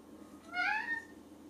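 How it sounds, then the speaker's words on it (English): A cat lets out a single short, clear meow indoors, a little way off and moderately loud, over a low background hum, with no talking during it. "you can hear me cat meowing"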